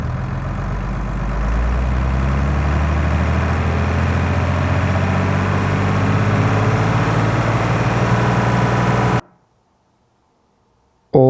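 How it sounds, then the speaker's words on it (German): Recorded tractor engine sweeping up through a rev ramp, a heavy low rumble climbing steadily in pitch for several seconds before cutting abruptly to silence. "Oder man hat eventuell auch gar nicht die Möglichkeit, so eine Rampe vom Motor aufzunehmen."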